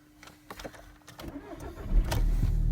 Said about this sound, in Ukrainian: Зараз Запробуємо як вона заведеться.